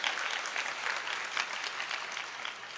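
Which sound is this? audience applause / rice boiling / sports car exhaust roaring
audience applause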